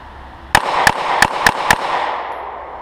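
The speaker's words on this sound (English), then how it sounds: "At the sound of the tone, I'm going to present the gun, fire several rounds," A Smith & Wesson M&P 9c pistol fires five rapid shots at close range, sharp loud cracks spaced about a third of a second apart, each trailing a short ringing echo.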